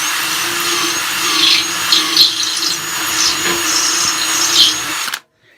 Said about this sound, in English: I won't have to drill it no more.